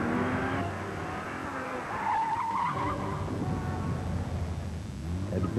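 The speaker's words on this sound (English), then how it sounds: "Continental Tires in a torture test." Car tires squeal and skid hard during a Continental high-performance tire torture test, a loud rising screech over roaring engine noise that fades and returns, with no speech.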